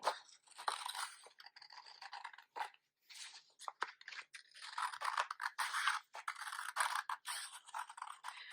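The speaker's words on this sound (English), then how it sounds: "I want you to cut out carefully around your face shape" Scissors snip through paper around a cut-out face shape, producing a series of close, crisp cuts and rustles in irregular bursts with short pauses between.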